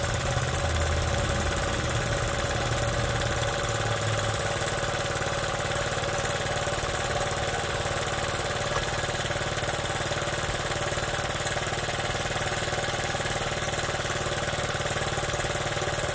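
A Honda Z50 motorcycle engine idles steadily just after its first start, a continuous low, even putter close by with no talking.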